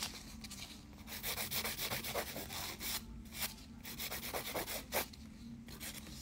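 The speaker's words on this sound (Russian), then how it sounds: "Так, пилим." A hardened stained-glass gel model is filed by hand, giving close, quiet rasping strokes that repeat in an uneven rhythm, with no voices.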